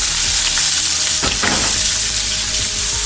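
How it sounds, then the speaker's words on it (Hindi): Chopped onions frying in hot oil for chicken do pyaza, a loud, steady sizzle throughout with a brief burst of crackling as they go into the pan. "ऑयल गर्म हो चुका है। अब मैं इसमें प्याज ऐड करती हूँ।"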